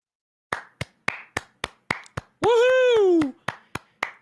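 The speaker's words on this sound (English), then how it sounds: "Clap it up for Blake Wheeler saving a goal." A single person claps sharply and rhythmically at close range, with evenly spaced slaps and a drawn-out cheering voice cutting in between them.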